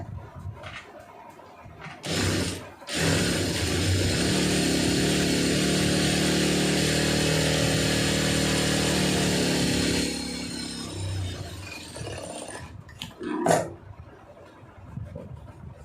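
A sewing machine stitches a folded quarter-inch hem on a lining blouse, its motor whirring steadily and fairly loud for about seven seconds, with faint mechanical clicks before and after.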